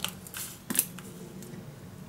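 Scissors snip through paper for a handmade mini album craft, a few short close cuts with a sharp clip near the middle, otherwise quiet.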